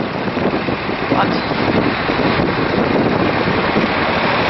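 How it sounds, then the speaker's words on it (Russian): Strong wind roars and buffets the microphone in a constant, rough rumble with no pauses, outdoors in Toronto's Chinatown. "Надеюсь, вам слышно, потому что очень ветрено, я пытаюсь громко говорить."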